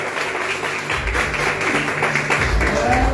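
At an Assemblies of God mission service, the church congregation applauds loudly in a dense, continuous wash of clapping over a low room rumble.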